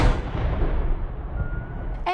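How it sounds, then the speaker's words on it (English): A single deep cannon boom rolls out and fades across Suva's Albert Park, part of a 21-gun salute at Fiji's 50th independence anniversary celebration, followed by a brief brass note. "There were impressive scenes at Suva's Albert Park, including a 21-gun salute."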